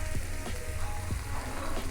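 Mushrooms sizzle in a hot pan as their liquid cooks off, a close, steady frying hiss with a few soft stirring knocks and no voices.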